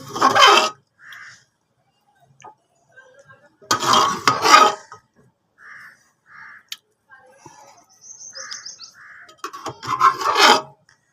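Mutton matar curry is served out of the pot, with sharp metallic scrapes and clinks of a spoon against the vessel in a few separate bursts, separated by quiet gaps and a few faint knocks.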